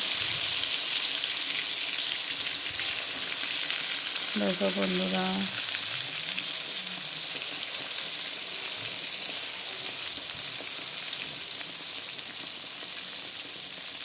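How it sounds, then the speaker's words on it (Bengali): Eggplant fries in oil with a continuous, close sizzle that holds steady from start to finish, while someone speaks briefly partway through. "দেখো বেগুন ভাজাও বসিয়ে দিলাম"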